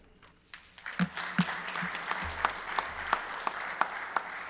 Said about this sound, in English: I just like to one more round of applause.